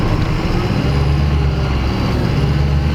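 A heavy lorry's engine runs in a field, giving a loud, constant low rumble with a steady idle throb and no voices over it.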